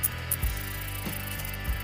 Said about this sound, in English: Wind the little wheel at the bottom until your fingers start bleeding.